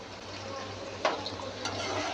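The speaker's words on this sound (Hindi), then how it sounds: "अब हम यहाँ पे 3 to 5 मिनट के लिए चिकन को लाइट गोल्डन होने तक फ्राई कर लेंगे।" Chicken pieces fry in oil until light golden, a faint, low sizzle with a couple of soft clinks from a utensil or pan.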